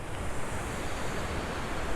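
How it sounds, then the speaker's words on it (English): Steady broadband rush of Edenville Falls waterfall, a continuous even roar with no talk over it. "And here is the falls."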